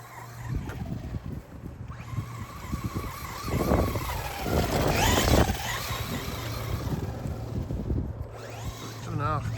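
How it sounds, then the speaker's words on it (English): A 2.5-scale RC rally car driving, its slipper clutch slipping and wheels spinning: a whining, revving motor rising and falling with gritty skidding bursts, loudest in the middle, with wind noise on the microphone. "Once you get it going, you hear the slipper clutch slipping a bit, or the wheel spinning a bit"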